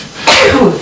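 A single sharp sneeze bursts out close and loud, a short forceful blast of breath in a quiet room.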